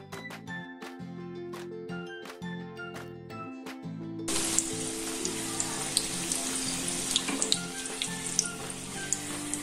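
Sprout katori chaat cups made of dough frying in hot oil, a dense steady sizzle with crackling bursts that starts about halfway in after a quieter stretch of tonal clinking and continues loud and close to the end.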